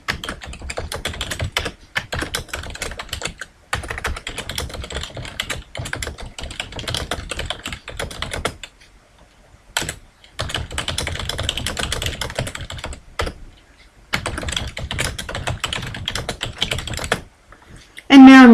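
Someone types a message on a computer keyboard, producing close, brisk bursts of clicking keystrokes separated by a few short pauses, with no talk.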